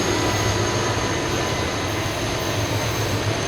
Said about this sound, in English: here comes Amtrak 770 approaching Fullerton